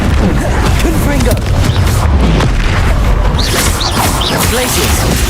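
Loud, booming magical blasts from the Confringo explosive curse in Hogwarts Legacy go off repeatedly amid whooshing spell effects and clattering impacts, with a voice talking over the combat.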